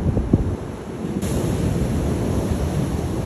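Ocean surf at Diamond Beach in Iceland, where blocks of ice sit along the shore: a constant low roar of waves mixed with gusty wind buffeting the microphone, no speech.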